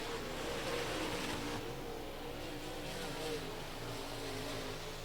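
Race cars hold a steady, rumbling engine drone on the final lap of heat race number one at a raceway, heard from a distance as a continuous blended roar.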